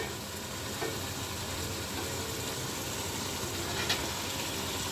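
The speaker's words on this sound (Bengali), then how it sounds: "এবার টমেটোগুলো একটু নাড়াচাড়া করে মাছগুলো দিয়ে দিব" Fish and tomatoes fry in a pan with a steady, even sizzle throughout. Occasional faint scrapes of stirring sound over the hiss, and there is no talking.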